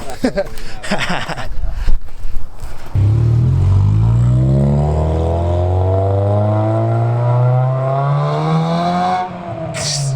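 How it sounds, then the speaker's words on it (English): A VTEC-equipped car engine revs hard, its pitch climbing smoothly and steadily for several seconds before cutting off, after some earlier clattering and movement noise, loud and close. "When VTEC snaps."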